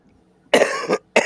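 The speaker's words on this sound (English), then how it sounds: "I still got this cough." Two sharp, harsh coughs close to the microphone, a quick double cough followed by a third after a short pause, with no talking.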